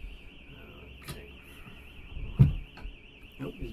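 A car alarm sounds from outside at a distance, a steady warbling electronic siren running faintly throughout with a few thumps and soft rustles nearby.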